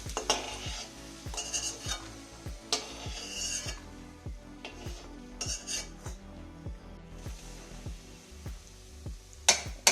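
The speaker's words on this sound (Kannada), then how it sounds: "ಅದೇ ತುಪ್ಪಕ್ಕೆ ತುಪ್ಪ ವೇಸ್ಟ್ ಆಗಬಾರ್ದು ಚಿರೋಟಿ ರವೆ ಮಿಕ್ಸ್ ಮಾಡ್ಕೊಂಡು ಸ್ವಲ್ಪ ಫ್ರೈ ಮಾಡ್ಕೊತಾ ಇದ್ದೀನಿ" Chiroti semolina stirred and fried in ghee for rava laddu: a spoon scrapes and clinks steadily against the pan in quick repeated strokes over a soft sizzle.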